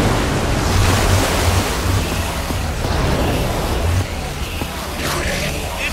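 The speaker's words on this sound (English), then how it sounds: "I don't know how much water this thing is going to kick out" Water gushing from a lever-operated machine in Minecraft Story Mode, a loud, continuous rushing wash like heavy surf that churns steadily throughout, with a faint voice briefly in the mix.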